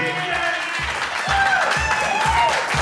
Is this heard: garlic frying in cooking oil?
no